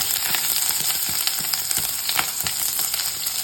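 Green chilli and ginger fry in hot oil with mustard and fenugreek seeds, giving a steady close sizzle dotted with small crackles and stirring clicks.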